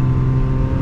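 A low-powered 4WD truck engine, around 70 horsepower, drones steadily while accelerating toward 55 mph, a loud, continuous low rumble heard from inside the cab with no other sounds.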